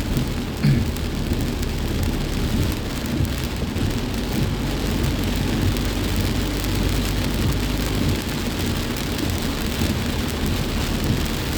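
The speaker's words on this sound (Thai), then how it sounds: "ฝนตก" Heavy rain pours steadily, a dense hiss of drops hitting surfaces with a low rumble underneath, continuous throughout.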